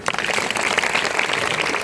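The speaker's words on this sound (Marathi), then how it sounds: "आता त्यांच्याकरता जोरदार टाळ्या वाजवा" Steady, dense applause from a school audience at a Guru Purnima lecture, honoring the principal, Mr. More; continuous clapping with no gaps, fairly close and even in loudness throughout.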